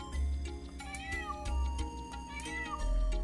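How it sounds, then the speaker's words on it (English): Kittens in the video game Wild ARMS 2 meow repeatedly in short sharp cries, several in a row, over the game's looping background music. "It's cats! There's kittens here!"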